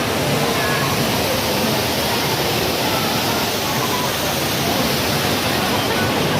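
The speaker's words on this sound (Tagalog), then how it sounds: "lumaragsak na tubig." Steady, loud rush of falling water from an indoor waterfall at Changi Airport, Singapore, a dense continuous roar filling the whole stretch with no pauses or voices over it.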